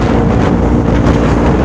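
Wind buffets a rider's helmet on a moving Kawasaki ZX4RR motorcycle, a dense, loud low roar of rushing air that holds steady throughout the short moment.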